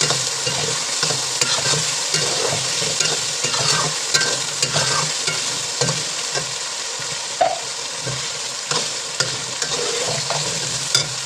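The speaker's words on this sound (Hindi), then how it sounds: "बना के आप इसके अंदर फाइन चॉप करके इसके अंदर डाल दें और इसे अच्छे से फ्राई कर लें" Green chili paste fries in a pan for a mixed vegetable rice, a steady broadband sizzle with soft scraping and stirring throughout, close and fairly loud with no voices.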